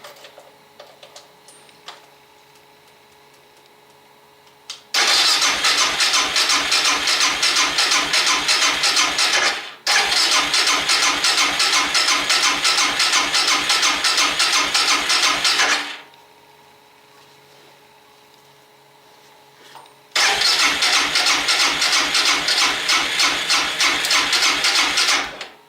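A Suzuki DR650 motorcycle engine, freshly fitted with a new battery, cranks and fires in three loud bursts of rapid, even ticking chatter, separated by quiet gaps, with no talking.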